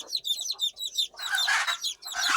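Native chickens on a small rooftop poultry farm, rapid overlapping clucks and chirpy calls in quick bursts, fairly close and moderately loud, with no talking.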